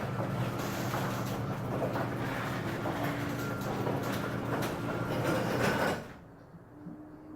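An electric opener runs a garage door in need of maintenance through its travel, a steady loud mechanical rumble and rattle that stops abruptly near the end, leaving a quiet room.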